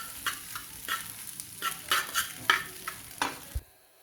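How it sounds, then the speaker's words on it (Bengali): Macaroni is stirred in an oiled pan, with a series of close scraping and clattering spoon strokes over a light sizzle that ends abruptly. "এখন আমি সবগুলো ম্যাকারনি দিয়ে দিলাম। এখন ভালো করে নেড়ে ছেড়ে দিব।"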